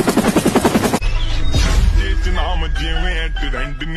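A helicopter starts with a loud, rhythmic rotor thump, then gives way to a noisy mix of whooshes and bursts, close and dominant throughout.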